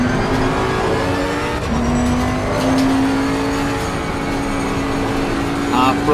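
A race car engine in Assetto Corsa Competizione at Spa, revving loud and steady with rising and falling pitch as throttle is fed through corners, while someone talks over it.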